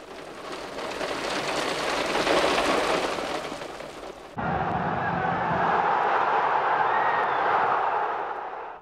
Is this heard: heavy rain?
yes